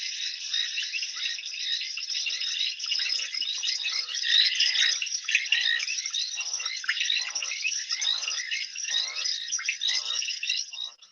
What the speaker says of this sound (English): I'm gonna turn down the crickets for a minute.